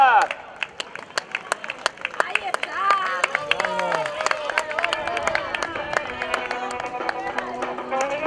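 Spectators at a popular women's triathlon clap in sharp, irregular bursts as athletes arrive, a scattered crowd nearby with an announcer talking over the claps throughout.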